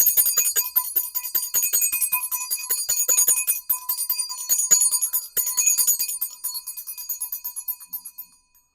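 A small handheld bell is shaken during a spiritual astrology reading, producing a continuous bright jingling that rings steadily near the listener before thinning and fading out at the end.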